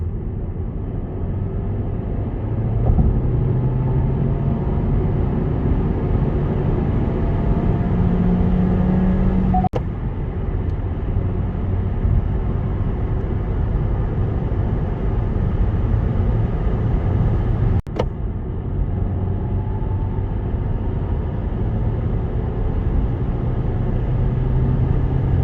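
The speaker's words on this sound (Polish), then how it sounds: "Oczywiście, trzeba pamiętać o redukcji, ale jak widzicie, samochód w miarę jedzie" A Kia Ceed 1.5 T-GDI with 160 horsepower and a six-speed manual gearbox drives along, a steady low engine and road rumble heard from inside the cabin, with two brief clicks partway through and no speech.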